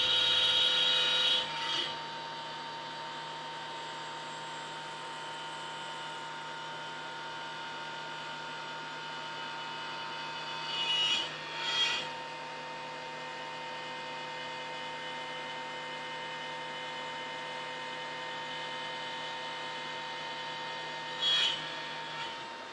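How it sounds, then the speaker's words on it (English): A CNC router machines a wooden mortise with a steady, sustained whine and hum, close and even throughout, broken by a few brief louder scraping swells as the bit cuts. "as you can see, the CNC router did a real nice job machining out that mortise"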